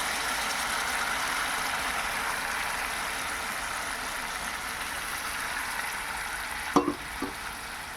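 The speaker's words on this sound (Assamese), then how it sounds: "অলপ সময় মই মাংসখিনি উতলিবলৈ দিম।" Meat simmers in a pot of water with cinnamon, cardamom and cloves for biryani, a steady close bubbling hiss with a brief clatter of utensils near the end.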